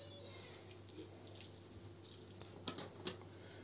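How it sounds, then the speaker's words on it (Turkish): Water drizzled over palamut fish in a pan with butter and green peppers, a faint pouring trickle with a few soft splashes and drips, close and quiet over a low steady hum. "Üzerine biraz da suyu gezdiriyoruz."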